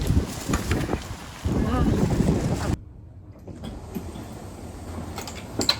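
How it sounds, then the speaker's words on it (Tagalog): Strong gusts of wind buffet the microphone in loud rumbling bursts outdoors in Japan, then ease to a quieter breezy background with occasional faint sounds. "Mahangin na."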